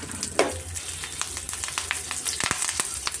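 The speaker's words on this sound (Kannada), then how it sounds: "ಸ್ವಲ್ಪ ತುಪ್ಪದಲ್ಲಿ ನಾವು ಹುರ್ಕೊಬೇಕಾಗತ್ತೆ. ಮತ್ತು ಸ್ವಲ್ಪ ಕರಿಬೇವು ಮತ್ತು ಸ್ವಲ್ಪ ಇಂಗು ಸೇರಿಸ್ಕೊತೀನಿ ನಾನು." Curry leaves and asafoetida frying in ghee on medium flame for a tempering, giving a steady close sizzle with crackling pops and a sharp burst near the start, no voices.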